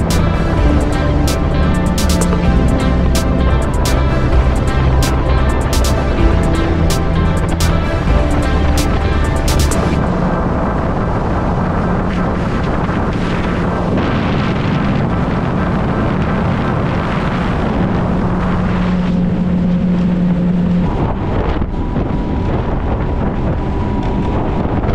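A Yamaha FX personal watercraft roars steadily over open water, its engine note loud and close against strong wind buffeting. Water slaps against the hull at regular intervals early on, and the engine note shifts partway through.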